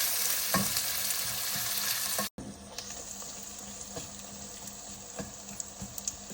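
Onions sizzle and crackle in a hot pan, with occasional stirring scrapes; a brief cut interrupts the steady frying hiss.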